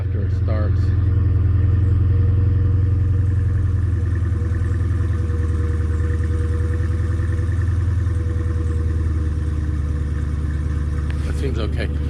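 A Hellcat car engine runs at a steady, loud idle with a deep, constant rumble, close by, with faint clicks at the start and end.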